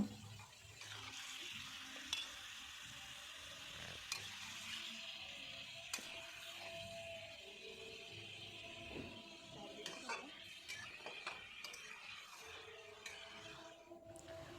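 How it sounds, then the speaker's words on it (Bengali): Chicken pieces frying in hot oil for a spicy red braised chicken curry, giving a steady soft sizzle with occasional stirring clatter from the pan throughout. "ওই তেলের মধ্যে মাংসগুলো দিয়ে দিলাম মাংসগুলো একটু ভাজা ভাজা করে নেব"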